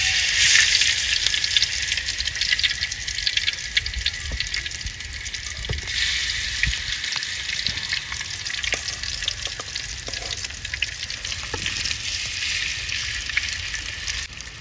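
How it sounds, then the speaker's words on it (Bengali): Fish frying in hot oil at an outdoor village kitchen, giving a steady, loud, bright sizzle with crackling pops that runs without a break and with no talk over it. "গরম হয়ে গেছে তেল আমি মাছ দিয়ে দিলাম"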